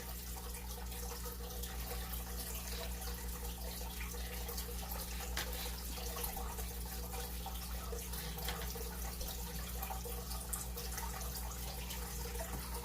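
Water runs steadily and continuously to wet down surfaces before painting, a constant hissing flow like an open tap, close and even with no talk.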